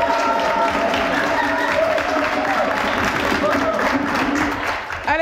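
Studio audience applause on a Burkinabè television entertainment show, a sustained loud burst of clapping mixed with cheering voices, dipping briefly at the very end.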